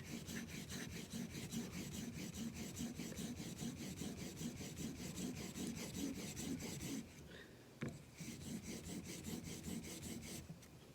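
Knife blade bevel being sharpened with repeated half strokes on a stone, a continuous close rasping scrape with a short pause partway, quiet and without talk.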